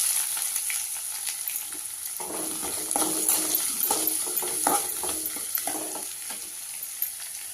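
Onion added to lentils frying in a hot pan, a steady high crackling sizzle that swells as the onion goes in, with scraping stir strokes and light clinks of a utensil.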